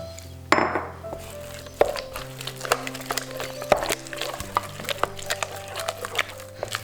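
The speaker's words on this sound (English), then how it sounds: "Mix it in until the egg is mixed in." A utensil clinks and taps against a bowl while eggs are worked into cream puff dough, with steady irregular clicks and a few sharper knocks, close and fairly loud.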